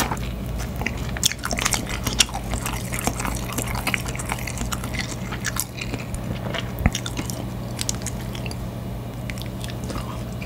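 Close, crisp crunching and cracking as snow crab shell is bitten and chewed while eating, irregular sharp clicks over a steady low hum.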